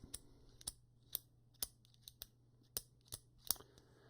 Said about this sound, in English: it's got that clicky tactile feel that you want from like a nice bolt action pen